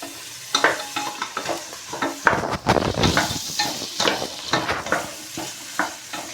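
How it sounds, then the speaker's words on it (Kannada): Bitter gourd and onions frying in a pan, a steady sizzle broken by scraping stirs and clinks of a utensil against the pan, close up and fairly loud, with no talking. "ಹಾಗಲಕಾಯಿ ಫ್ರೈ ಮಾಡ್ಕೊಳ್ಳೋಣ ಈರುಳ್ಳಿ ಜೊತೆಲಿ"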